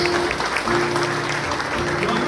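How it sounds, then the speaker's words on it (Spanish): A congregation applauds at a charismatic assembly in the parish of San Leonardo, Timiza, with steady, dense clapping filling the hall alongside a faint sustained tone. "Vamos a darle un aplauso al Señor por estos hermanos."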